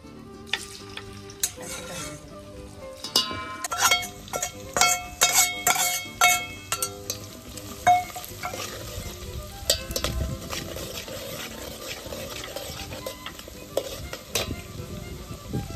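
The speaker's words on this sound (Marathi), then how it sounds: "कांदा कढई गरम असल्यामुळे मी भाजून घेतला ऑलरेडी" Onion frying in a hot kadai on a wood-fired stove, with busy stirring, a spatula clanking and scraping against the metal pan in irregular bursts, close and fairly loud.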